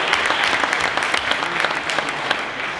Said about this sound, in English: why don't we give our convening mayor and our host mayor a big round